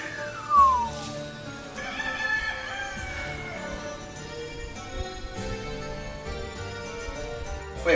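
Chickens cluck and crow in a busy stretch, with a sharp crow near the start and a steady stream of overlapping clucks and squawks afterward, moderately close.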